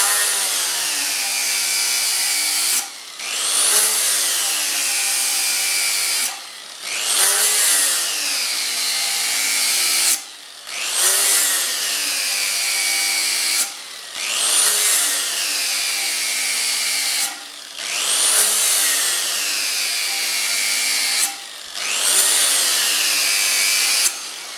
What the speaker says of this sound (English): try to grind away from the tip, front.